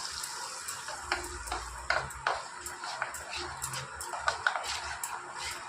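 Spiced paneer being stirred and mixed with hot mustard oil in a bowl, soft wet squelching and scraping strokes with light clinks of utensil on the dish, with a voice speaking over it.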